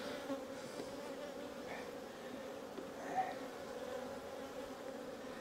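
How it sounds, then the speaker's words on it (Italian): Honeybees buzzing around an open hive with a non-aggressive queen, a steady close drone with individual bees passing near, moderately quiet and continuous, no speech. "questa regina non sono api aggressive"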